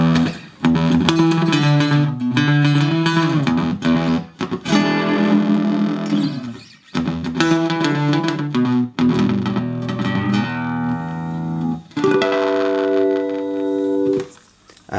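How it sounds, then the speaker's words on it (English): A heavily delayed, slightly distorted electric guitar through a Bell Electrolabs PA:CE Automatic Double Tracker with delay at maximum plays a melodic phrase, each note trailing into dense repeating echoes that smear together, with brief gaps between phrases. "I'll turn up the delay so you can hear just the delay on its own."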